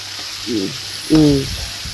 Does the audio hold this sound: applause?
no